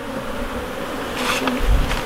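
Honeybees buzz loudly at close range as they are shaken off a hive lid, a dense droning swarm that swells briefly toward the end.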